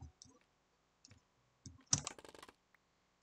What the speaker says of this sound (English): You can hear me jitter clicking.